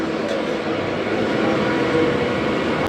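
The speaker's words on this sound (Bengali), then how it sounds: "ট্রেন ছেড়েও দিয়েছে আমাদের" A Ranaghat–Bongaon non-AC local train pulls away from the station, a steady, loud broadband rumble and rattle of the carriages heard from on board, continuous throughout with no voices.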